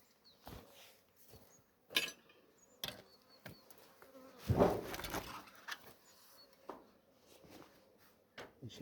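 Insects buzz around a beehive, thought to be hoverflies, in a faint intermittent drone with a few soft knocks and clinks from handling frames, and one louder close pass midway.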